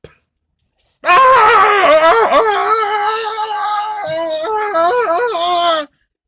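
A drawn-out, wavering vocal wail, loud and close, rising and falling for about five seconds like a creature yelping in pain, likely a voice imitating it.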